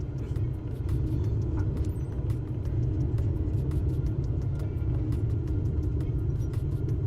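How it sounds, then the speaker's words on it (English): Steady loud low rumble of an aircraft rolling out on the runway after landing in Microsoft Flight Simulator, with aerodynamic braking as it slows, a continuous dense roar with faint higher clicks throughout. "Aerodynamic braking."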